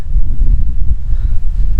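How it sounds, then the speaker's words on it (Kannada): Strong wind blows straight into the microphone outdoors at Dibbagiri near Bengaluru, a loud, continuous, low buffeting rumble with no speech. "ಗಾಳಿ ತುಂಬ ಬೀಸ್ತಾ ಇದೆ"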